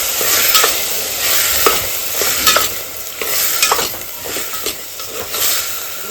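A spoon stirs and mixes a vegetable curry frying in a pan on a home stove, with a continuous sizzle and repeated scraping strokes against the metal. It is loud and close, and nobody speaks.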